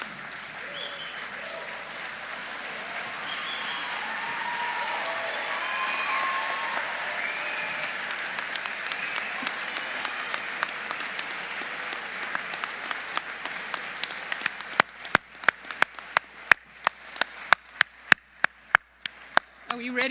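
A graduation audience at a pharmacy hooding ceremony applauds in a broad, sustained wash that thins toward the end, leaving a few sharp, separate claps close by.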